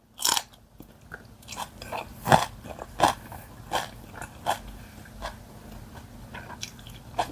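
Someone eats a Korean convenience-store lunchbox with drinks, giving close, wet chewing and biting sounds at an irregular pace, a few louder crunchy bites standing out over a quiet room, with no talking.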